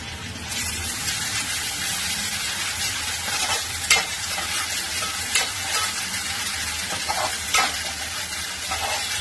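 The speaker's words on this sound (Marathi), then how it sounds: "आलं, लसूण, कोथिंबीर, मिरच्याची पेस्ट टाकते 1 चमचा." Spoonful of ginger, garlic, coriander and chilli paste for a Kokan-style chicken vade thali sizzling in a hot pan, a steady loud crackle with a few sharper bursts as it is stirred.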